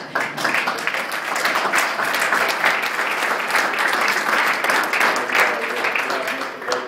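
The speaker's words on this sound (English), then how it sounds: "let's give them a round of applause" An audience gives a round of applause to local MLAs at a community event, lively dense clapping that swells and stays steady for several seconds, with a voice faintly mixed in.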